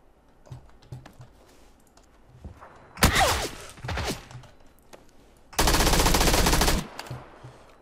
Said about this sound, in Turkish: Şu karşı taraflardan bir yerlerden sıkıyor bu